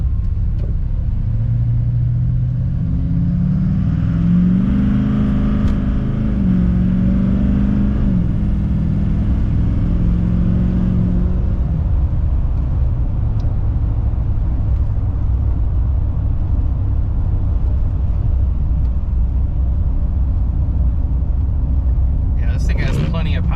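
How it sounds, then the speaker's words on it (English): An LML Duramax diesel pickup with an 8-inch exhaust tip and Banks ram-air intake revs up and settles, its deep exhaust rumble loud and close for about twenty seconds with a voice talking over it. "Exhaust, so I mean it's got a good, you know, deep sound to it."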